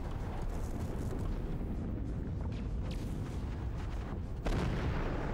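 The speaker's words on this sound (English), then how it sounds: "I hear a lot of explosions," Continuous heavy rumbling explosions and artillery-like booms from the MechWarrior 5: Mercenaries battle, dense and loud throughout, with a sharper blast near the end.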